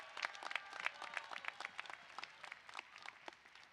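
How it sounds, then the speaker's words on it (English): A stadium crowd applauds faculty and staff at a college commencement ceremony, a steady wash of many hands clapping from a distance, with individual claps standing out now and then. "I think they deserve another really big round of applause from everyone else in the stadium."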